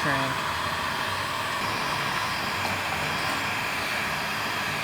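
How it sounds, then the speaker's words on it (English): A heat gun blows a steady, loud hot-air whoosh while shrinking heat-shrink tubing on a paramotor throttle cable, a continuous close rushing hiss with a faint voice briefly underneath. "Oh, I love watching heat"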